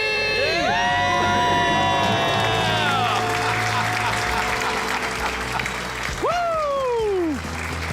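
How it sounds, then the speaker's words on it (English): Studio crowd on a debt-free call-in radio show lets out loud screams, whoops and sustained cheering with applause, close and continuous, with rising and falling shouted voices throughout. "Let's hear a debt-free scream."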